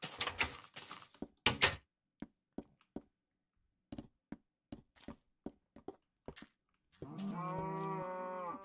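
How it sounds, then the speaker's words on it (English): A cow in the video game Minecraft lets out a single sustained, harmonic moo at close range, following a series of sharp knocks and clicks from block placing and a door. "Yes, cow."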